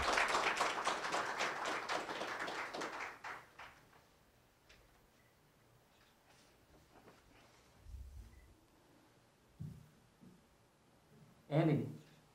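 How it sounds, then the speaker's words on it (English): Audience applause at an anti-Asian hate press conference, a burst of rapid clapping from a small crowd that fades out over a few seconds, followed by sparse taps and quiet room noise. "Please give another round of applause."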